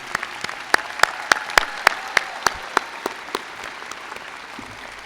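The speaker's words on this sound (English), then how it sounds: "I'd like to ask our graduates to join me in applauding these special people" Graduates clap at a commencement ceremony in a slow, even rhythm of about a dozen sharp, spaced claps that fade out toward the end.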